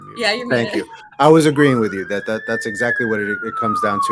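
A siren wails outside, its pitch rising then gliding slowly down, running under a person speaking over a call.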